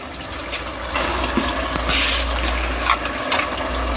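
Water poured into a pot of rice while making raw prawn pulao, a steady close splashing and trickling that runs on for several seconds with small bursts and no talk.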